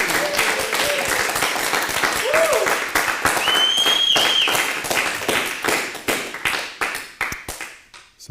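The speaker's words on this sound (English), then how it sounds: "Let's get a little clap your hands" Sustained applause from an audience at a Zen Buddhist Shuso Hossen ceremony, dense clapping filling the room, with whoops and a few voices over it, tapering off near the end.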